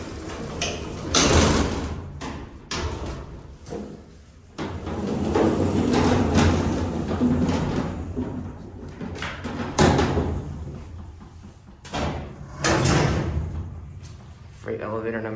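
Montgomery A-Series hydraulic freight elevator doors at a shopping mall open and close with repeated clunks, thuds and mechanical rumbling, fairly close and loud, with sharp bangs near the middle and toward the end.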